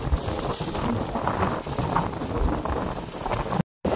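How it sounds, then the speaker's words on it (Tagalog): Strong typhoon wind roars and buffets steadily close by near the sea, a dense rushing noise with gusty low thumps that briefly cuts out near the end. "Lakas ng hangin yan."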